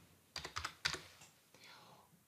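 A few quick taps sound on a computer keyboard in a short, quiet burst of typing, then a faint trailing sound follows. The keys are close and soft.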